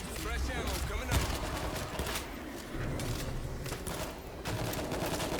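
Dense, continuous gunfire and bursts of automatic weapons in the zombie shooter World War Z, played on the New York level on extreme difficulty, with voices talking over the steady shooting throughout.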